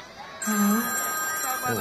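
A telephone rings in a repeating electronic ringtone pattern while several people talk over it in a noisy studio setting.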